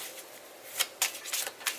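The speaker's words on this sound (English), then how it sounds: "Let me shuffle better." Tarot cards are riffled and shuffled by hand in quick, close bursts, a papery flutter building to several sharp snaps of cards slapping together, with no voice over it.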